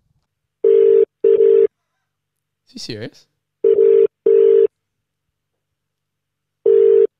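Repeated phone ringback tones sound in evenly spaced pairs, loud and steady as a call is placed, with a short burst of voice breaking in between the rings.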